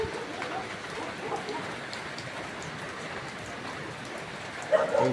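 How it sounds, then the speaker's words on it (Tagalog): Steady rain falls on a stormy morning outdoors during a 2008 Toyota Altis radiator replacement, a continuous dense hiss with a brief louder burst near the end and no talk. "Ayan, maulan."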